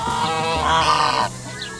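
A bird gives a loud, drawn-out nasal honking quack close by, followed by a short fainter call.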